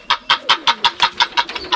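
A goose at a mountain farm stay calls in a quick run of about ten loud, close, evenly spaced honks, heard alone.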